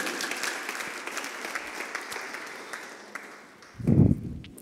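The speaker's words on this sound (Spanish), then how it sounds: "Dale un aplauso al Señor" A church congregation applauds in a moderate, continuous patter of clapping, with a sudden low thump near the end.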